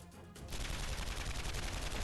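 Rapid gunfire from Sol's bullets in the fighting video game Guilty Gear Strive, a dense burst of shots that starts abruptly and holds loud to the end.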